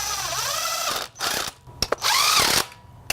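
Ratchet wrench clicking during work on a bi-turbo Audi engine, with two rapid bursts of ratcheting separated by brief pauses and small metallic knocks, close and clear, no talking.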